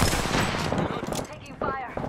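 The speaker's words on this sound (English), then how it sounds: "Taking fire." Automatic gunfire from an Apex Legends match crackles in rapid bursts, loud and close, with a voice talking over parts of it.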